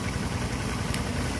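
A Robin engine on a sprayer machine runs at a steady idle, a continuous loud mid-low drone with constant vibration and no speech over it.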